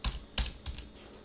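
Keys clack on a computer keyboard, four or five separate taps in an uneven rhythm, close and moderately quiet with no talk.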